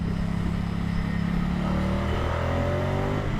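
A Moto Guzzi Stelvio's engine runs in sport mode, a steady mid-pitched drone with a rising tone as the throttle opens, heard close from on board with rushing wind underneath.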